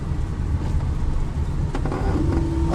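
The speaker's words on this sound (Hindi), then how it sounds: "अब शिफ्ट करो गियर।" Car engine droning steadily during a driving lesson gear change, low continuous rumble with a brief rising tone as the gear shifts, no talking.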